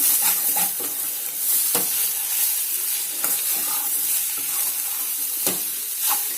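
Vegetable patty filling frying in a pan, with a continuous loud sizzle and several scraping strokes of a spoon stirring the mixture at irregular intervals.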